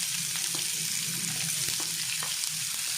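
Crushed ginger and garlic fry in hot oil for a squid sukka, giving a steady crackling sizzle. Faint stirring ticks sit on top, and there is no talking.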